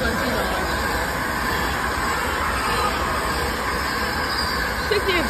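A Class 390 Pendolino electric train named City of Stoke-on-Trent rushing past at high speed, a loud, steady roar of wheels and rushing air filling the whole span, with a brief squeal near the end.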